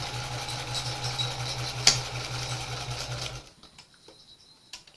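A sewing machine with a roller foot stitches a quarter-inch quilt seam, humming steadily and close for about three seconds before it stops and the room goes nearly quiet.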